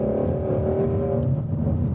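A 2018 Ford Mustang Shelby GT350R engine revs hard near redline, a loud, close, sustained roar with no talk over it.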